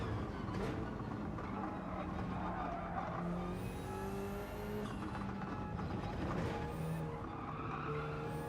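Subaru BRZ tires skidding and squealing in snap oversteer in Gran Turismo 7, a sustained tire screech with sliding pitch tones over a constant engine roar, broad and continuous.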